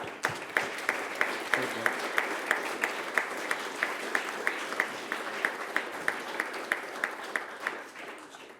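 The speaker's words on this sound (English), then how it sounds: "She deserves a round of applause, Laura." Audience applause for Laura at a Boston barn concert, a modest crowd clapping with a steady rhythmic beat like hands clapping in unison, fading near the end, with some murmuring underneath.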